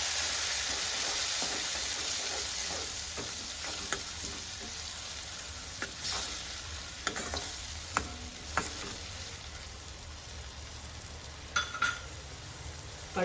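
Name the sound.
chopped tomatoes frying and being stirred in a kadai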